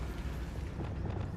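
A Bombarda spell blast in Hogwarts Legacy lands as a dull, rumbling boom, a short continuous burst of low, heavy noise inside a mine.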